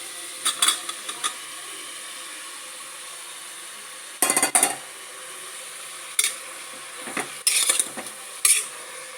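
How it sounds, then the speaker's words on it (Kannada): Mushrooms fry in a pot for biryani under a faint, steady sizzle, broken by short bursts of a metal spoon scraping and clinking against the pan as they are stirred, with no talking. "ಮಶ್ರೂಮ್ ಚೆನ್ನಾಗಿ ಫ್ರೈ ಮಾಡ್ಕೊಬೇಕು."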